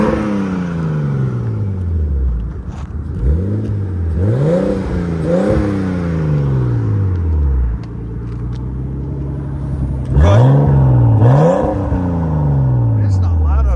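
A 1989 Nissan Skyline Type-M engine fitted with a high flow converter revs repeatedly, pitch climbing and falling in several sharp sweeps with a steady idle rumble between, recorded close by with brief voices.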